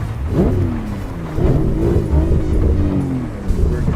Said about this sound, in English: We're driving a Subaru today.